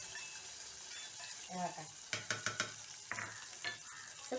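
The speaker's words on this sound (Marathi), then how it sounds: "सुरसुर आवाज आला की आपली फोडणी एकदम खास झाली." Curry leaves hit hot oil in a tempering and crackle up close, with a run of sharp pops and spits over a soft sizzle and no talk.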